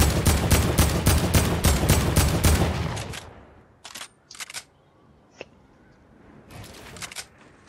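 Rapid automatic gunfire in Fortnite Battle Royale, a fast steady burst for about three seconds followed by scattered shorter bursts and single shots, some sounding more distant.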